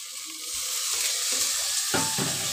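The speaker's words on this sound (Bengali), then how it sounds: "আচ্ছা, একটুখানি আমি জল দিয়ে দিচ্ছি" Water splashed into a pan of frying spices for a raw tomato and potato curry sets off a sudden loud hiss that builds into a sustained close sizzle, with a few scraping stirs.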